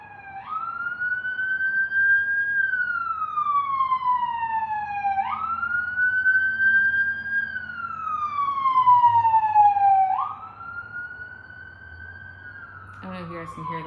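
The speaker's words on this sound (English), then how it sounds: "there's a fire truck that's going to come by." A fire truck siren passes nearby, its loud wail rising and falling in about three slow sweeps before dropping away at the end.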